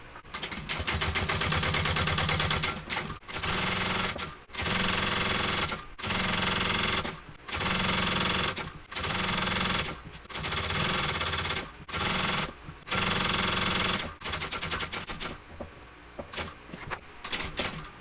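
A sewing machine stitches a handbag seam with a brand-new needle, running in loud, rapid mechanical bursts of a few seconds each, separated by short pauses, close up and with no speech.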